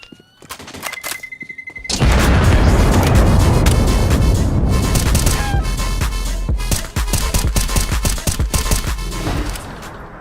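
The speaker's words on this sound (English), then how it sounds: "I am throwing a grenade" In the game Counter-Strike: Global Offensive, a grenade goes off with a sudden loud blast, followed by a dense, sustained roar and crackle of rapid gunfire and impacts.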